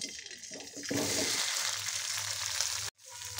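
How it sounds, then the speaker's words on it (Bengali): Paneer cubes dropped into hot mustard oil in a kadai, a loud broad sizzle rising after about a second and holding steady close up, briefly cutting out near the end before resuming. "তেলটা হালকা গরম হয়ে গেছে, আমি পনিরগুলো ছেড়ে দেব।"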